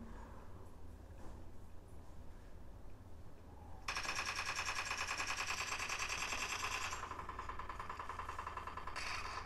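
Gunfire from a mobile battle-royale shooter game played on a Sharp Aquos phone: a sudden loud burst of rapid shots kicks in partway through and continues densely, standing out over quiet game ambience, with no talking.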